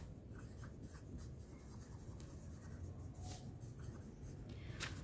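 A pen writing a math solution by hand on paper, faint scratchy strokes coming in short irregular bursts over steady room hum, close and quiet with no talking.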